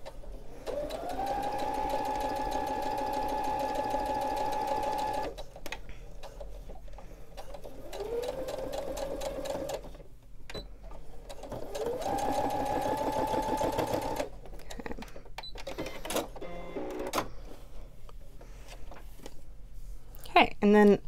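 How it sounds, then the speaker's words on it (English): A Baby Lock Brilliant sewing machine runs in several bursts while stitching a back stitch on fabric, a steady close whirring hum that starts and stops, separated by short pauses with handling clicks. "I'd like to do a little back stitch, especially on this fabric"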